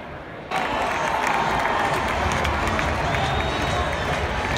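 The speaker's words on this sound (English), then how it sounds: "Derisive cheer right there from the crowd because the Yankees just scored their first run of the game." After a brief quiet start, a large baseball crowd at Yankee Stadium erupts into a sustained, roaring cheer tinged with mockery, steady and loud with distant voices mixed in.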